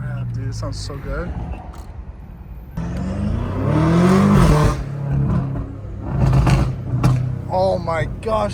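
A straight-piped BMW M car exhaust revs hard in the city, climbing into a loud rising roar midway and then cracking in shorter bursts, with voices talking throughout.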